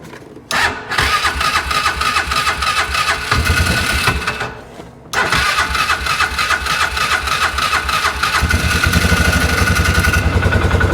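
A car engine in a repair shop cranks and fires up after the fuel pump cycles, then settles into a steady loud idle close by, its throb building slightly toward the end, with no talking.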